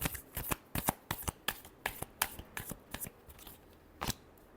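Tarot cards are shuffled close up in a quick run of crisp riffling bursts, a dozen or so sharp papery flicks in an irregular rhythm with a brief pause near the end.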